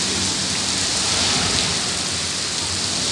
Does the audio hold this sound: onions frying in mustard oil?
no